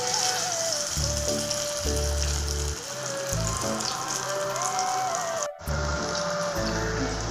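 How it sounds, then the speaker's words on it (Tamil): Pea and potato snacks frying in hot oil, a steady bubbling sizzle that holds throughout, with tonal background music playing over it. "எண்ணெய் நல்லா ஹீட் ஆனோன்னா போட்டு இந்த மாதிரி ஒன்று ஒன்றா போட்டுக்கலாங்க"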